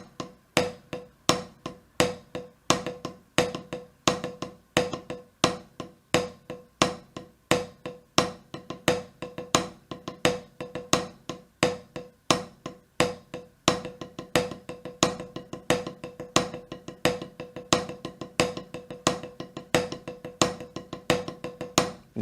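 Snare drum practice pattern alternating a steady check rhythm with paradiddle sticking variations, played alone as a crisp, evenly spaced stream of close, loud strokes with accented hits and no talking.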